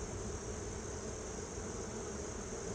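A honeybee colony left without its queen hums loudly inside the hive, a dense, steady buzzing drone that holds unbroken and close throughout, with no voices.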